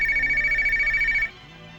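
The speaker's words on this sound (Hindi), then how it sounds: "ये बेवक्त किसका फोन है?" A telephone rings in a Hindi romantic film scene, a loud, close electronic trill pulsing rapidly for over a second before cutting off abruptly into quiet.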